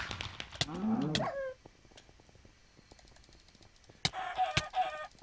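Minecraft chickens cluck in a barnyard in short, close bursts, one near the start and another near the end, with a quiet stretch of sparse clicks between them.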